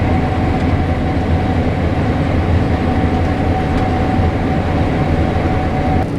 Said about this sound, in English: Definitely not taking a combine down the road with a header on.